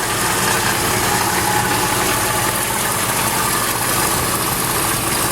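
A 1977 Ford F350 pickup, freshly tuned up with new hoses, idles after start-up with a steady, close, unbroken engine drone.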